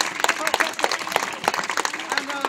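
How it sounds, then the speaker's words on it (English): A street-show crowd in Kendal claps for volunteers, lively scattered applause with sharp individual claps, while voices talk over it. "a round of applause for our hat-wielding volunteers"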